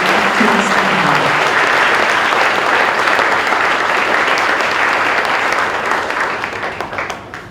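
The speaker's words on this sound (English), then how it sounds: "Can we just please give them another round of applause?" Audience applause at a school presentation day, a full, dense burst of many people clapping that holds steady and then fades toward the end.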